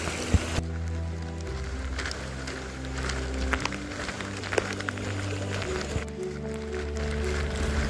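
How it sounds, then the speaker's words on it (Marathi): Heavy rain falls in a continuous, dense patter near a riverside village pond, with a few louder drops and taps and a steady low hum beneath. "कारण आता पाऊस बी जास्त आहे"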